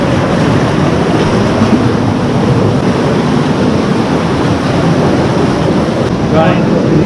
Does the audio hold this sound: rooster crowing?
no